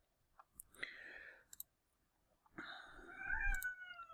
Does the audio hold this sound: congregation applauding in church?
no